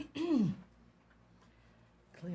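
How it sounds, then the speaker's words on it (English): A man clears his throat with a single short, gravelly rasp, followed by quiet room tone and a faint breath at the end. "clear my throat here a little bit."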